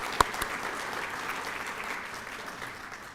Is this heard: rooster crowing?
no